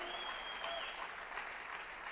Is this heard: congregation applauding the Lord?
yes